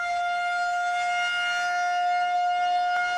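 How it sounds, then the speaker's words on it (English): An outdoor civil defense storm warning siren sounds a steady, sustained tone, fairly clear and unbroken for a few seconds, with no voices over it. "make sure you aren't simply relying on outdoor sirens to indicate when a bad storm is"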